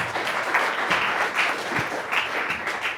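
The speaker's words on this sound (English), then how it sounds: "Big round of applause." An audience at a startup meetup in a Google startup hub applauds to welcome the next speaker, a dense, steady wash of clapping that holds at even loudness throughout.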